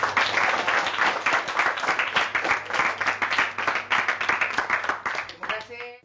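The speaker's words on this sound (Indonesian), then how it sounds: "beri tepukan kepada kumpulan ini" Loud, dense applause from a group of students in a classroom, many hands clapping steadily for several seconds before tapering off at the end.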